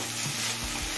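Susuni greens stir-fried over a medium flame, water cooked off, crackling and sizzling in a pan: a steady, close, continuous fry noise with no talking.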